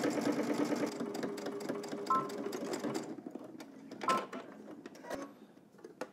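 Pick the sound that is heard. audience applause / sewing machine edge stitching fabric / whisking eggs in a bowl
sewing machine edge stitching fabric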